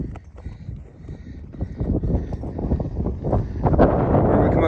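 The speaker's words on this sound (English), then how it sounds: "that wind was blowing up over this hill and nothing but snow, big time" Strong wind gusts roar over an exposed hill during a blizzard, a rough, buffeting rush that builds louder toward the end, with a voice talking faintly underneath.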